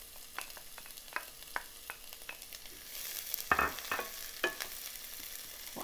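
Chopped onion dropped into hot canola oil in a pan while cooking prawns in coconut sauce, sizzling and crackling steadily with a few sharp spatters and stirring clicks, close and moderately quiet.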